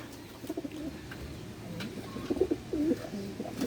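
Pigeons coo softly in low, repeated rolling calls in a loft against a quiet background, close by, growing a bit louder toward the end.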